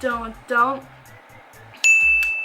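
A notification bell ding sound effect rings once, bright and clean with a lingering sustained tone, right after a woman's short spoken phrases.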